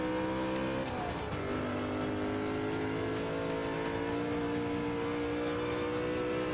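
A race car in Forza Motorsport 5 on Xbox One drifts through corners, its engine droning loudly and continuously with a rising pitch sweep and tire squeal mixed in, steady and close with no talking.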